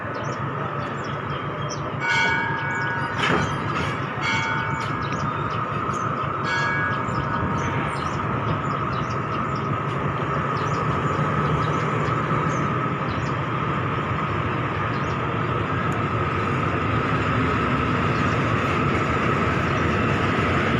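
Thai express train 634 stands at a station waiting to let rapid train 111 pass, with a constant loud rail rumble, bell-like chimes and a brief horn-like tone early on, and no talk.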